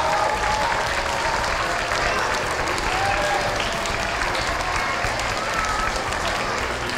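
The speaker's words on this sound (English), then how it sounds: "can we have one more huge round of applause for our first grade students?" A school audience gives first grade students a big round of applause after their concert, dense steady clapping filling the room loudly and evenly throughout with no break.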